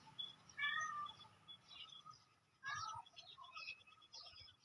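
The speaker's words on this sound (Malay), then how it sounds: "Kucing I minta makanan dia." A domestic cat meows repeatedly while waiting to be fed, two clear bursts of mewing calls up close against a low background hum.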